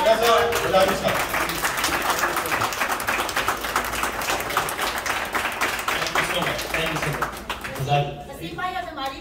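An audience at a Pakistan flood relief event claps steadily to welcome a guest, a dense sustained round of applause that fades near the end as a voice comes in.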